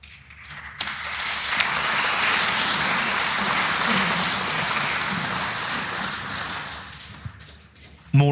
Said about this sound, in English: More applause from table 2, where Oliver Lyons